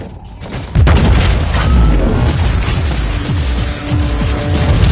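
A grenade blast in the game Warhammer 40K Inquisitor, a loud, sudden boom that opens into a long, dense stretch of rumbling explosions and crackling debris, with no speech.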